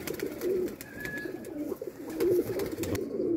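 A pigeon coos in repeated, soft low notes close by, with a faint steady background hiss and no talking.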